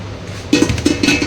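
Metal dishes are set down one after another in a home kitchen, making a few quick, close clinks and clanks in short clusters.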